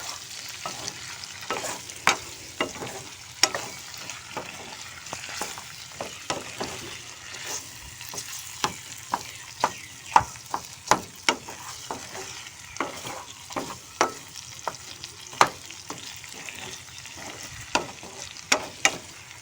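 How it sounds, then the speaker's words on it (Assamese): A vegetable curry frying in a pan and being stirred, with a steady soft sizzle beneath frequent sharp clicks and scrapes of a spoon against the pan, fairly quiet and without talk. "অকণমান টেঙা হ'লে ভাল লাগে আৰু আকৌ এবাৰ লৰাই দিছোঁ"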